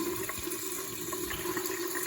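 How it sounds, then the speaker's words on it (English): Water rushing out of pipes through an opened valve during plumbing work on a framing job, a steady, close gushing flow with a constant hum and no pauses. "So it's ideal to pop a valve here. All the water will get out of the pipes"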